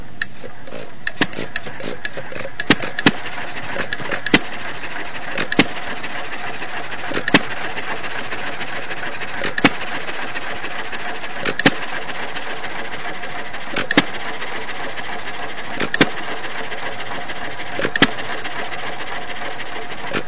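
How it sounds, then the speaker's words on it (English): A simulated engine runs at one steady speed, with a constant mechanical whir and sharp clicks landing at even intervals of about two seconds. "our virtual engine only runs well at 1 speed and would sound something like this."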